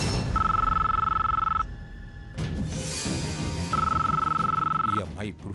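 An old-style telephone bell rings in a household scene from a Telugu TV serial, two long bursts of loud electronic trilling separated by a pause, with people talking around the rings.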